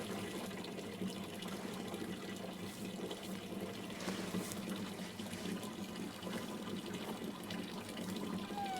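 Fresh water gushes steadily into a trough in a goat pen on a remote island farm, a constant soft splashing flow heard faintly and close without a break.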